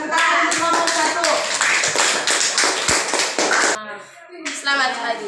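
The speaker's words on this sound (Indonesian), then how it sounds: "tepuk tangan untuk kelompok 1" A classroom of students claps for a student group, giving quick, rhythmic bursts of hand claps mixed with voices calling out, ending in a brief pause before another short round.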